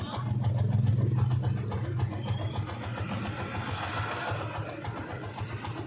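A motorcycle tricycle's small engine warms up idling close by with a steady, throbbing mechanical rumble, slightly louder at first, then settling into an even putter.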